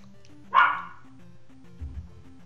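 A dog in the room gives a single sharp bark, near and fairly loud, over quiet chiptune music from a Zelda II NES game, followed by a faint low thump.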